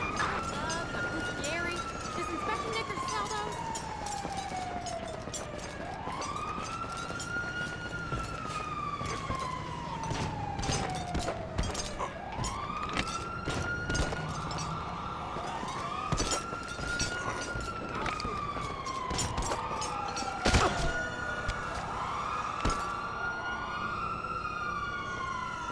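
Emergency sirens in Grand Theft Auto V wail in long repeating rising and falling sweeps for the whole stretch, with overlapping siren layers, in-game chatter and scattered sharp impacts.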